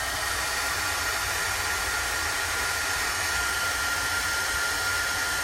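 A hair dryer blowing steadily to dry chalk paste on a gingerbread-figure craft, a continuous close, even whooshing hiss with no pauses.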